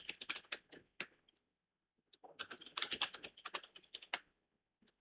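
Password being typed on a computer keyboard during a server software install, heard as two quick bursts of close, crisp key clicks separated by a short pause, with no talking.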